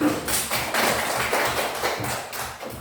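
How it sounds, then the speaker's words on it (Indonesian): A group of schoolchildren in a classroom claps briefly together, a short burst of fairly soft, slightly uneven hand claps in quick succession, with no speech over it. "Adik-adik semuanya hebat. Tepuk tangan dulu."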